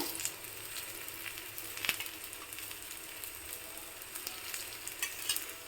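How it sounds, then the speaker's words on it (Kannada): Food sits on an oiled sheet and cooks in a continuous bright, close sizzle with fine crackling and occasional sharper pops throughout, no voices over it. "ಚೆನ್ನಾಗಿ ಎಣ್ಣೆ ಹಾಕಿಬಿಟ್ಟು ಚೆನ್ನಾಗಿ ಬೇಯಿಸ್ಕೊಳ್ಳೋಣ"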